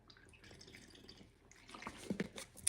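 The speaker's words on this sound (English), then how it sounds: "Let me take a sip of water before I finish." Quiet, close slurping and wet dripping sounds of someone sipping a drink of water, faint at first and then a few sharper liquid clicks near the end.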